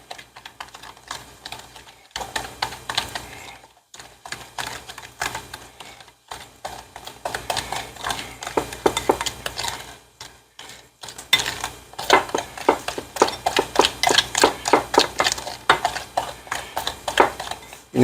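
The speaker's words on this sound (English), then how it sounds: "Then we're just going to mix this all up." Ingredients mixed for Peking duck in a bowl, a utensil clicking and tapping against the sides in quick uneven bursts, close and fairly loud, with short pauses between spells of stirring and no talking.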